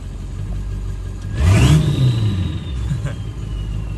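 A 7.3L Powerstroke diesel truck revs once through a hood stack fitted with a tractor flap, a short rumbling burst that swells and settles back to a low, steady idle, with no talking.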